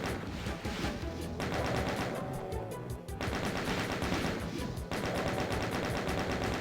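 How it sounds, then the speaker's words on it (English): Rapid chaingun fire in The Ultimate Doom, dense continuous bursts of clattering shots with brief breaks, loud and close over game music. "Just chain gunning and circle strafing."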